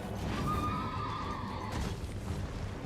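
A horse in the video game Elden Ring gives a loud, drawn-out neigh with a wavering whinny lasting over a second, set against dense game noise and faint hoof clatter, with no talking.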